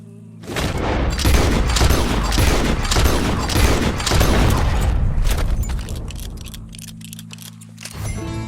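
A dense burst of gunfire from Red Dead Redemption 2, rapid loud shots layered into a roaring fusillade for several seconds before fading, with a low steady drone underneath and a final shot near the end.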